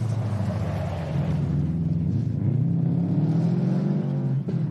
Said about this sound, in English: Have a listen to the Subaru coming through.